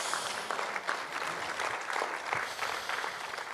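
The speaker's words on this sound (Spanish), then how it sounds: "Oh, están aplaudiendo." Applause rises from a church congregation during a service, a moderately faint, uneven patter of many hands clapping with small swells, no voices over it.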